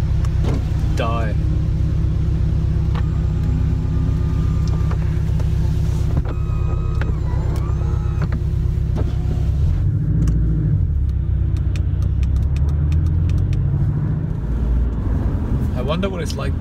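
A Porsche Boxster 718S with its roof closed drives through a London tunnel, giving a loud, steady engine and road rumble with a hollow resonant drone and some rising and falling engine tones partway through.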